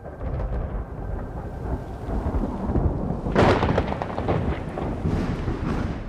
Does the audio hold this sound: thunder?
yes